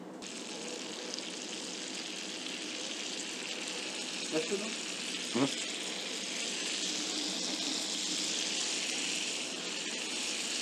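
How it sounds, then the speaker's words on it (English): Butter melts in a pan to make nut brown butter for fish meunière, giving a steady, moderately loud sizzling hiss with a couple of brief knocks partway through. "To prepare the nut brown butter, you melt butter in a pan."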